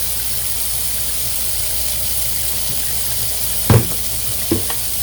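Tap water runs steadily into a container being refilled for a snow-dyeing project, a constant rushing hiss throughout with a couple of brief knocks near the end.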